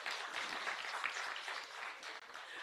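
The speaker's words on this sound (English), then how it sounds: "Now, Seo, thank you, you can clap hands." A crowd claps for a transport minister at an outdoor road inspection event in Mafikeng, a fairly faint, even spread of hands applauding without talk.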